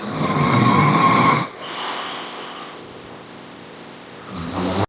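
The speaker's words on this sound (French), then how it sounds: "le ronfleur mélodique." Loud, tonal snoring with a sustained nasal drone on the first breath, then quieter rasping breaths and the start of another snore.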